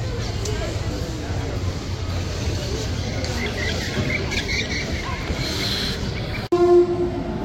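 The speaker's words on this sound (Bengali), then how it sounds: "এই যে লোকোমোটিভ চলে গেল হাওড়া WAP4" A WAP4 electric locomotive runs past a platform at a Kolkata station, a steady loud rumble of rail noise throughout, ending in a short sharp horn blast near the end.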